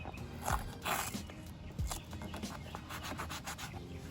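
Leather dye is applied to a BMW's leather interior with close, repeated soft rubbing and scrubbing strokes that run in uneven rhythm throughout.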